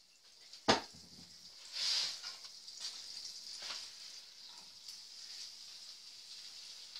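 Vegetable oil heats in a soup pot on a stove, giving a faint, steady sizzle and hiss after a sharp knock of the pot being set down.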